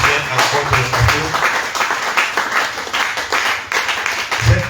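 A church congregation claps loudly and steadily, acclaiming the Lord during a French sermon, with no pause in the applause.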